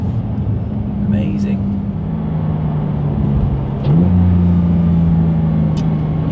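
A Porsche GT3 fitted with a Sharkwerks exhaust drones steadily, then blips sharply upward on a downshift rev partway through and holds a higher note. The engine sits fairly close, with talking over it.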